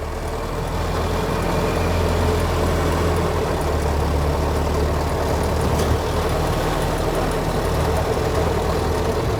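Ford Model T engine running steadily at a museum park, a continuous low rumbling drone close by as the car pulls away in low gear, with no talking.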